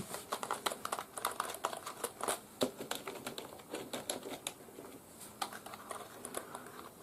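Someone types on a Logitech K275 wireless keyboard, a rapid run of close, crisp key clicks in an uneven rhythm, fairly quiet and without speech.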